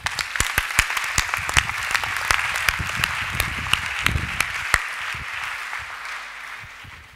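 Congregation at a church convocation applauding, a dense burst of many hands clapping with sharp individual claps standing out, steady for several seconds before thinning slightly.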